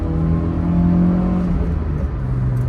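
A 1986 Mercedes-Benz 190E-16V four-cylinder engine hums steadily from inside the car while driving, a continuous low drone with a gentle rise and fall in revs, no voices.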